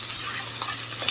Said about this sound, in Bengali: এখন মশলাটি এর সঙ্গে একটু হালকা ভেজে নিব।